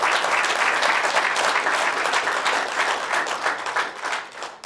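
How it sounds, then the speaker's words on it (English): An audience applauds at a Clorox Company open house in Martinsburg, sustained loud clapping from a crowd filling the whole stretch and tapering slightly at the end. "And you got to clap, because for them to come here,"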